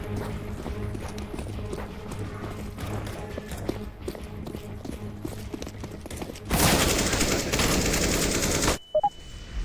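Rapid automatic gunfire in CS:GO, bursts of rattling shots with footsteps, then a loud sustained blast of noise near the end before it cuts off abruptly.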